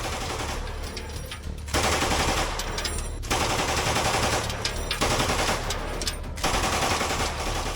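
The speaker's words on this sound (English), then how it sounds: "Now he is about to give the Russians a taste of the MG3's full belt." An MG3 machine gun firing a full belt during trench combat in Ukraine, with loud, close, sustained bursts of rapid automatic fire broken by brief pauses, a few seconds apart.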